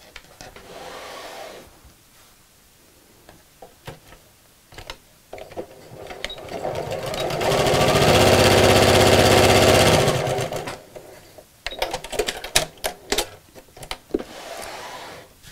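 A sewing machine top stitches across a folded piece for a picnic blanket placemat, running in one steady burst of several seconds, with quieter handling clicks and fabric rustle before and after.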